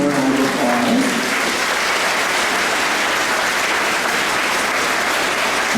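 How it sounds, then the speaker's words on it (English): Graduation audience at a fifth-grade ceremony at Highland Elementary breaking into sustained applause, a dense, steady wash of many hands clapping throughout, with a brief voice at the start. "let's give them a round of applause"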